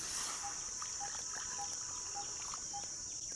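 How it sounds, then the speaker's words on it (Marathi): A glass of water is poured into a kadhai on a stove, making a faint, thin trickle beneath a steady high-pitched background hiss. "आता 1 ग्लास पाणी टाकायचं आहे आपल्याला कढईमध्ये"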